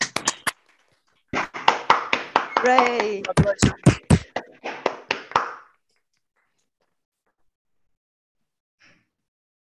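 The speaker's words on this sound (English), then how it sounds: "give a big round of applause to you all" Scattered claps from graduation ceremony participants unmuting on a video call for newly awarded candidates, a burst of uneven clapping with sharp individual claps over a few seconds, then silence.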